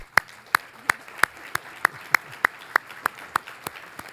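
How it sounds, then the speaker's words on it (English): A single person clapping at an event, about a dozen sharp, evenly spaced claps in a steady rhythm, close and distinct over a quiet room. "So can we give this great group a round of applause"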